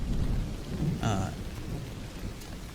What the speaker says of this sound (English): there is a crack, a very loud crack of lightning